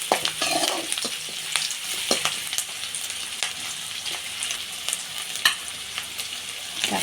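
Chopped onion, green chili and ginger sizzle in a pan for a fish curry, a steady frying crackle broken by repeated scraping stirs of a spoon, close by with no talking.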